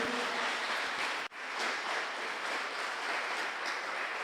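A church congregation applauding at a Sunday night service, a dense steady patter of clapping filling the room with a brief dip partway through.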